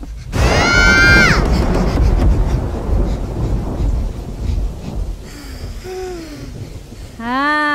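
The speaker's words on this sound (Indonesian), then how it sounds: "Jangan keluar. Hujan lebat tu." Heavy rain roars with low thunderous rumble, while a voice lets out a sharp cry and later other high-pitched wails cut through the downpour.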